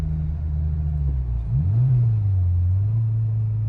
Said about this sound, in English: Downshifted into third gear.